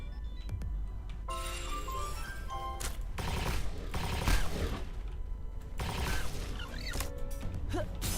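Rapid bursts of gunfire from shooting in the video game Palworld, sharp crackling shots in quick clusters over layered game effects and background music, with a brief louder volley near the middle.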